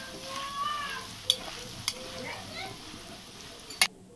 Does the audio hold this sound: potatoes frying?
yes